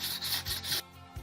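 Sandpaper rubbing hard across zinc-coated sheet metal being cleaned, giving steady rasping strokes, loud and close, in several bursts before a brief pause and one last scrape.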